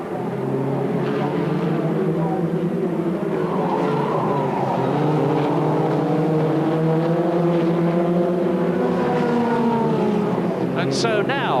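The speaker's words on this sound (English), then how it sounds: "Benoit Vigneault driving a beautifully cool race in the Richard Dutton Racing Reynard car with its Neil Brown engine" A 1985 Reynard FF2000 race car with a 130-horsepower, 2-litre Neil Brown engine screams around Brands Hatch, its loud, rising and falling engine note sweeping through gear changes and sustained throughout.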